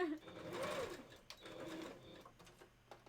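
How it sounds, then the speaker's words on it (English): A sewing machine gives a steady, faint warning beep when its pedal is pressed while the presser foot is still raised, heard under a person talking. "I keep accidentally hitting the pedal button when the presser foot isn't down yet, and it's complaining at me"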